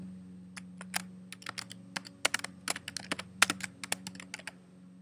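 Someone types a short title on a computer keyboard, a close run of light, irregular key clicks over a steady low electrical hum.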